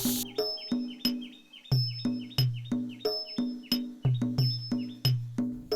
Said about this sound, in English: with the sounds of insects and birds to keep you company